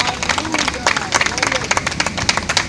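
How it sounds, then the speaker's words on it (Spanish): A church congregation claps together in a fast, uneven patter of many hands, with crowd murmur and voices mixed underneath. "¿Por qué no le das un aplauso a Dios?"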